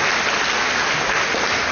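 A church congregation bursts into a short, loud round of applause, dense clapping from many people filling the room evenly from start to finish.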